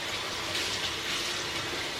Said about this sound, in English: So all I'm gonna do is just basically just rinse them off